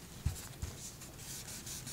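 An ink-covered finger rubs along a paper strip during card making, giving soft, faint dry scuffing with two brief louder touches early on, without any talk.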